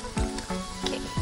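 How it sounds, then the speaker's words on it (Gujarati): Ginger, chilli and garlic paste sizzles with onions in a pan, a faint, continuous frying hiss broken by a few soft stirring scrapes. "હવે એમાં આપણે આદુ, મરચા અને લસણની પેસ્ટ ઉમેરવાની છે"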